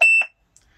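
A CB radio roger beep in a 1989 International S1900 tow truck sounds as two quick electronic tones at the end of a transmission, close and clear, followed by near silence.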